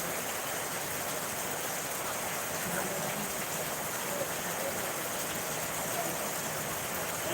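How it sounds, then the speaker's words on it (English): Steady rain falling, a constant even hiss with faint patter on surfaces, close and unbroken throughout. "It's raining."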